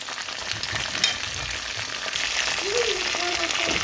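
Chicken pieces fry in a pan with a continuous crackling sizzle that swells slightly toward the end, plus a few faint background tones and no speech.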